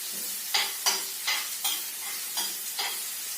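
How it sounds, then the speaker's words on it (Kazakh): Chopped onion frying in a pan for borscht, a steady close sizzle broken by about seven sharp scraping strokes as it is stirred at a loose, uneven rhythm. "Біз жуаны 5 минуттай қуырып аламыз. Яғни біз оны араластырамыз."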